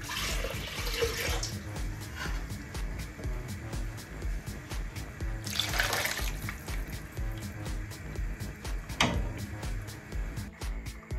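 Water is poured into a cooking pan for mint pulao made with jeeraga samba rice, a soft splashing and running-water sound with a few louder gushing bursts over a low background, with no talking.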